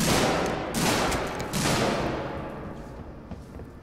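Enemies opening fire in the video game Alien: Isolation, a loud dense fusillade of gunshots that opens hard, surges again, then trails off into quieter scattered shots.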